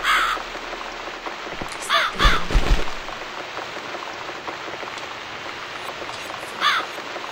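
A crow in the video game The Cat Lady gives several separate harsh caws over steady rain and dripping, with a louder burst of noise in the middle.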